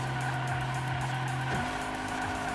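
A race car in a Hot Wheels racing game with poor handling, its engine droning steadily with a tonal whine that shifts pitch midway, plus faint tire noise, loud and continuous with no talk.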